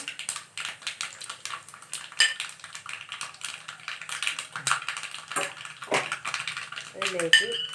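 Mustard seeds and fenugreek popping in hot oil for onion sambar, a rapid scatter of small sharp crackles and taps close by, while someone talks over the sizzling.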